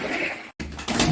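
Pigeons in a coop give a brief soft cooing call, close by, cut by a short gap of silence.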